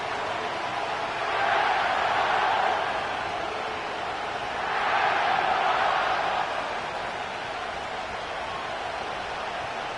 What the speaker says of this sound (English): The crowd is alive